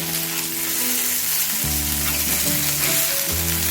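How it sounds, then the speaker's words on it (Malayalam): Chicken pieces frying on a cast iron tawa over low flame, a continuous close, bright sizzle with a few shifts in intensity as the pieces are turned. "നമ്മളിതുപോലെ ചിക്കൻ പീസസ് വെച്ചിട്ട് ഒന്ന് ഇളക്കി വിടണം കേട്ടോ."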